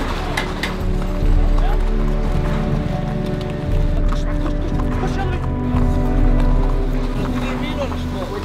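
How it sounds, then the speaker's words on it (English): Horses ridden near the Giza pyramids, hooves clopping in a loose, uneven rhythm on the ground, with people talking over them and background hum from the surroundings. "We're gonna be riding horses as we see the pyramid on the side."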